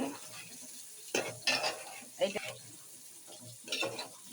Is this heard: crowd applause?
no